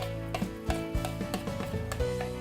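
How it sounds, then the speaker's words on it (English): Rice and dressing stirred together in a bowl, irregular soft scrapes and clinking taps of a utensil against the bowl over a faint hum, close and quiet. "So I'm just going to add this and mix it all together."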